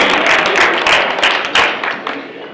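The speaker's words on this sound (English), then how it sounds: "Give yourselves a round of applause for having a great first round of table networking." Audience applause fills a networking event held by the West Los Angeles Chamber of Commerce with a Rotary club: dense, loud clapping from many hands that swells and then thins out toward the end.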